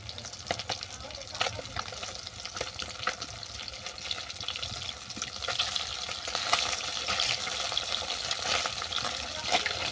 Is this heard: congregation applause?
no